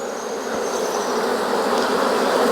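A dense, loud, continuous hum of many honey bees buzzing close by in an open hive, a steady drone that swells slightly and never breaks.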